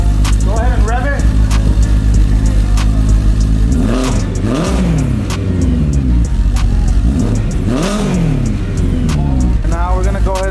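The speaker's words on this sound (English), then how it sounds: "Go ahead and rev it." A BMW M3 with the S65 V8 and a Valvetronic exhaust kit, valve closed, revs repeatedly: loud close-up blips rising and falling over a steady idle, with voices talking alongside.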